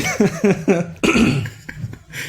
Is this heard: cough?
yes